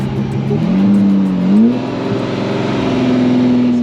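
A Ferrari Testarossa Spider engine with a starting problem runs steadily and revs up, its pitch rising and settling into a sustained higher drone, close and loud throughout.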